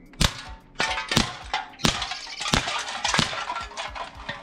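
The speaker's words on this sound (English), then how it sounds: "We're going to see if we can hit them off one shot each" A SIG Sauer 1911 Emperor Scorpion CO2 blowback replica pistol fires at cans, a rapid string of about eight sharp pops mixed with metallic clangs of hits, close and loud, without talk.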